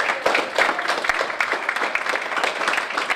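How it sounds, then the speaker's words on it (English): Audience applause for volunteers at a nonprofit tech meetup, steady dense clapping from a room crowd throughout. "we're going to applaud them and tell them they're wonderful because they are"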